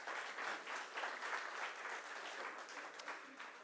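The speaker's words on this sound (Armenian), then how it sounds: "այստեղ կարող եք ծափարել" Audience applause fills a political speech hall, a dense, steady clatter of many hands clapping without a break, fairly loud and sustained throughout.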